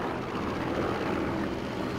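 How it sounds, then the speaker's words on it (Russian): Continuous propeller-aircraft drone from planes overhead in Sniper Elite 4, a steady, broad roar at moderate distance with no speech. "эти самолеты будут причинять мне вред, если засекут или нет"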